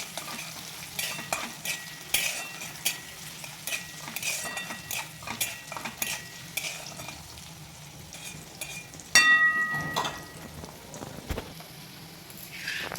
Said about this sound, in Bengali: পেঁয়াজটা লঙ্কাটা একটু ভালোভাবে নেড়ে নিব লাল লাল করে